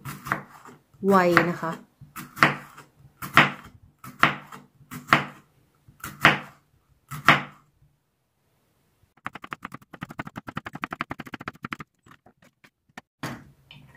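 Someone speaks in short phrases in Thai, then a knife thinly slices bitter melon against a cutting board in a quick, even patter of close, crisp taps.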